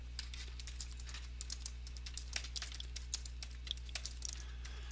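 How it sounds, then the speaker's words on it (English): Rapid typing on a computer keyboard, a quick irregular patter of light key clicks over a steady low hum, fairly quiet and close. "this will allow me to type anything into this text box"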